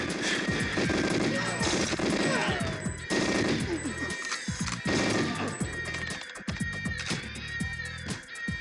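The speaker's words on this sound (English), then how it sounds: "those MP5 rounds can easily burn up so much rounds" MP5 fire in the N64 game GoldenEye 007 comes as loud, dense bursts of rapid shots over busy game sound effects, mostly continuous with brief lulls.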